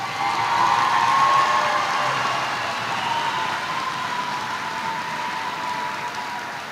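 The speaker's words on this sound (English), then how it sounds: "Please give the graduates of row 8 a round of applause." A high school graduation audience applauds for several seconds, a dense, steady wash of clapping from a large crowd that swells slightly at first and then gradually thins.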